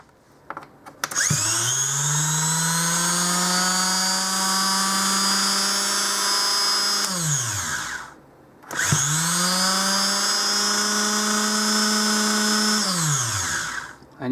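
A rebuilt Morini motorcycle starter motor spins up on a bench test, a loud electric whine that rises quickly in pitch, holds steady, then winds down; it runs twice with a short pause between.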